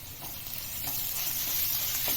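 Ginger garlic paste frying in oil with finely chopped onions, a close, even hissing sizzle that swells slightly louder, with faint stirring scrapes and no voices.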